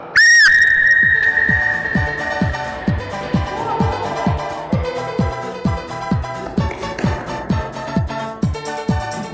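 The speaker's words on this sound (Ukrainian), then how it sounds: "Після свистка." A referee's whistle starts a tennis-ball relay race: one sharp loud blast at the start, followed by rhythmic pounding thuds from the racing teams.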